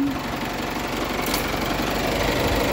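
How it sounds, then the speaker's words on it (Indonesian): A 2017 Isuzu D-Max 4x4 diesel engine idles smoothly and evenly, with a loud, continuous close-up rumble and a steady fine chatter and no pauses. "mesinnya masih sangat halus dan rata tidak pincang"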